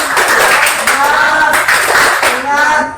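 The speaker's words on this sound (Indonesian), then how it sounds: "Kita tepuk tangan." A classroom of electronics engineering students claps their hands together in a loud, brisk burst of rhythmic clapping that runs throughout, with voices calling out over it.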